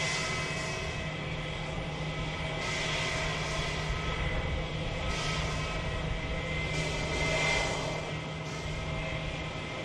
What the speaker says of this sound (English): Still prepping the aircraft for takeoff by the looks of it as well.